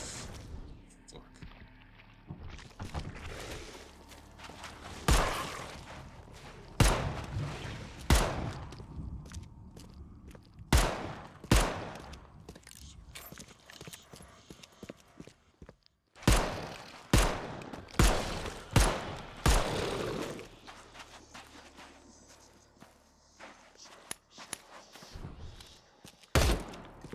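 Gunshots in the video game The Sinking City, a series of loud, separate blasts spaced a second or two apart with echoing tails, some in quick pairs, and a few muttered words in between.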